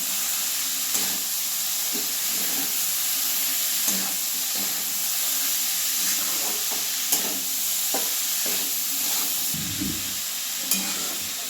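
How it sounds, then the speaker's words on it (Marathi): Cooked flat beans are stirred into a roasted masala frying in a pan, a steady loud sizzle and hiss with intermittent scraping strokes and soft knocks from the spoon, close up and continuous. "आता आपण हे शिजवून घेतलेले घेवडे शेंग ह्यात या हलवून असं चांगलं मिक्स करून घेऊया"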